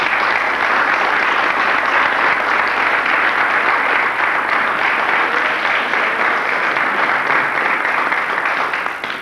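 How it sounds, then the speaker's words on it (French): A crowd at a firefighters' flag ceremony in Boutigny applauds the veteran firefighters, giving dense, sustained clapping that carries loudly and evenly before tapering slightly at the end. "non pas applaudir ce modeste discours, mais applaudir nos anciens, Jean-Jacques, car il le mérite bien."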